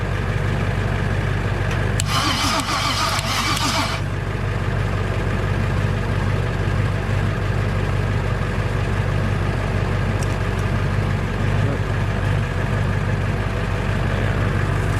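Rebuilt 500 hp rear-mount turbo Silverado truck engine cranking and catching, with a brief rough burst of starter noise before settling into a steady, loud idle that runs on alone.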